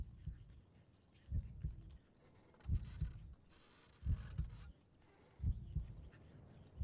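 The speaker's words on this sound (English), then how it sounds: "I can hear a heartbeat." A slow, deep heartbeat pulses in the fantasy game Sorcery!, five evenly spaced double thumps, low and muffled, with a faint hum underneath.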